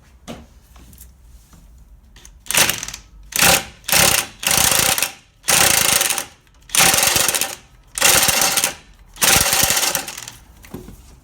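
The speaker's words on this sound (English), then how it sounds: "I did manage to get them both off with the impact gun" Impact gun undoing nuts during an engine replacement on a diesel Ford Focus 1.6, firing in about seven loud, rattling bursts of roughly half a second to a second each, separated by short pauses, close up with no talk.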